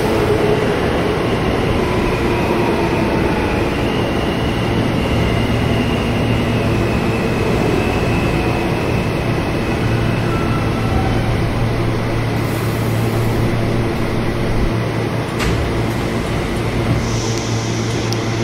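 An R160A G subway train in the Roblox game runs along the IND Crosstown Line, a steady loud rumble with a constant low hum and a high whine holding throughout, no voices.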